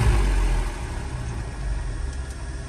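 A Piper Chieftain's piston aircraft engines run at a steady drone during a magneto check, a close, even rumble with a slightly louder start that settles into a constant hum.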